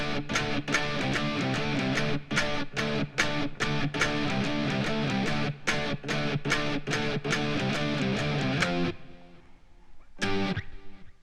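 Electric guitar playing a riff, a fast, steady run of driven, chugging notes. The notes cut off abruptly near the end, then one last short stab rings alone.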